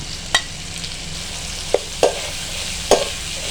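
Capsicum and onions stir-fry in a pan for dry chilli chicken: a constant sizzle broken by four sharp spatula scrapes and knocks at uneven intervals, close and clear, with no voices.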